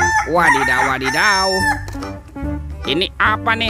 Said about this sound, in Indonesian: Wow, ini ada ayam berkokok.